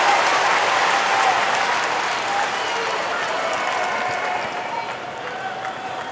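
Dense applause and cheering from tennis fans at a 2021 US Open third-round match, loudest at the start and tapering slightly while staying continuous and full throughout.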